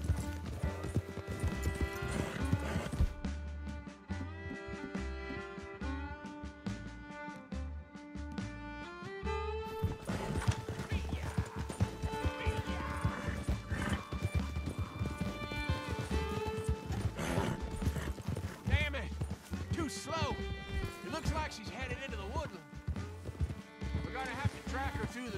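A horse galloping in the video game Red Dead Redemption 2, a steady run of hoofbeats with occasional whinnies under a layered game soundtrack and voices speaking throughout.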